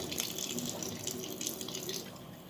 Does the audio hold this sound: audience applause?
no